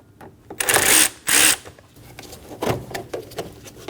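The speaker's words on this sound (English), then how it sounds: "Using a T15 bit, we're going to remove the 2 screws for the intake." Two short bursts from a power driver fitted with a T15 bit back out the intake screws on a 2012-2022 Volkswagen Passat, close and fairly quiet, followed by faint handling clicks.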